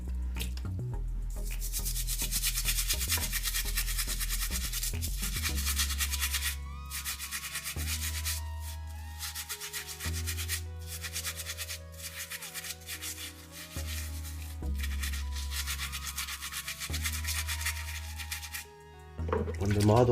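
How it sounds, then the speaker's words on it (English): A toothbrush scrubs a small miniature model with dish soap in repeated bursts of rough brushing, close and fairly loud, with a low tonal hum running underneath and brief pauses between strokes. "I simply use dish soap and a toothbrush to clean the models."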